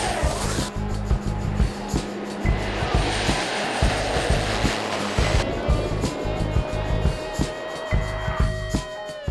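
A propeller plane's engine drones steadily and loudly at a private airstrip in the Australian Outback, a continuous close rumble with a pulsing low beat that holds for the whole stretch.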